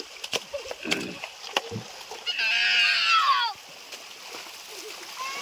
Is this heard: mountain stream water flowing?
yes